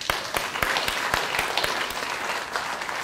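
Scattered, distinct hand claps from a small audience at an education reform gathering, with individual sharp claps standing out over a thin wash of applause.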